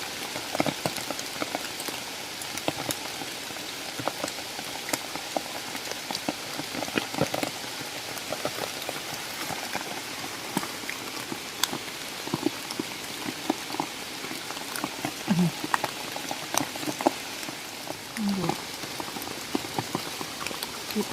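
Heavy rain falls steadily while mushrooms are picked outdoors, making a dense continuous patter with scattered sharper drops and no talk.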